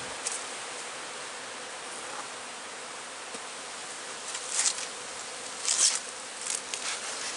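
Honey bees hum around a beehive in a continuous, close swarm buzz, with a few individual bees whizzing louder past the microphone toward the end.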